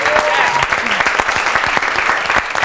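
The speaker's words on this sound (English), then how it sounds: "A big applause to what's going on here." A studio audience on a TV style-judging show bursts into loud, sustained applause, a thick, even crowd clapping with no gaps across the short stretch.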